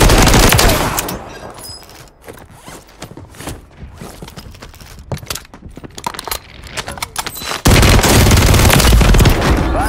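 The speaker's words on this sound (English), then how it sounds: "Friendly mortar." A Call of Duty battle with a friendly mortar strike and gunfire: loud, dense bursts of sharp cracks and clattering, thinning into scattered rapid shots before a heavy, sustained roar returns at the end.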